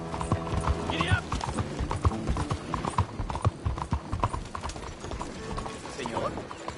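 Horse hooves gallop in the western game Red Dead Redemption: a fast, continuous clatter of clip-clops close by, with tack jingling and a brief whinny over a busy background.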